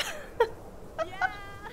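A cat meows in a VR metaverse game, giving three or four short, close, high cries spaced about a quarter second to half a second apart, with no talk over them.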